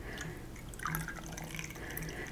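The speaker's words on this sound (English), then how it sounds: "I think I've got a little bit more in here that I want to pour in." Tea with roasted barley trickles from a small teapot into a large cup, a soft continuous liquid pour with light dripping, close and quiet, with no talking.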